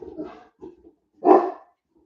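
A very large dog of about 200 pounds, trained in German and English, lets out a single loud, close bark after some brief softer vocal sounds.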